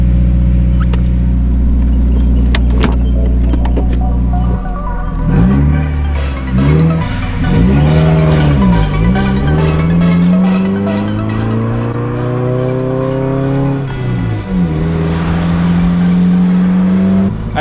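A car with a freshly repaired exhaust idles loudly up close, then pulls away, its engine note rising and falling through several gear changes in smooth sweeps, throaty and steady with no voices.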